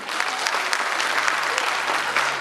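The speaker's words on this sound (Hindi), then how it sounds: "जोरदार तालियां बजाइए" An audience at a college employees' sports and cultural event breaks into loud, sustained applause, a dense, even roar of many hands clapping together.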